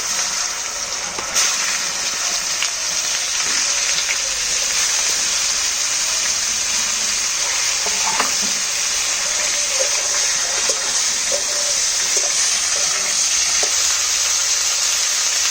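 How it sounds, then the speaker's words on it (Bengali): Potato and cauliflower pieces frying together in a pan of oil with black cumin seeds, giving a continuous, fairly loud sizzle and bubbling hiss throughout, with no voices. "আর আলু আর ফুলকপিটা আমি এক সঙ্গেই ভেজে নেব"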